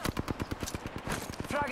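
Rapid automatic gunfire in Apex Legends, a fast even burst of close, punchy shots running through the whole moment, with a player's voice talking over it.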